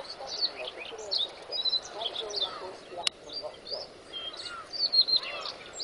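A black-tailed gull colony on Teuri Island at fledging season, many birds calling in overlapping mewing and squealing cries at varied distances, irregular and fairly faint, with one sharp click partway through.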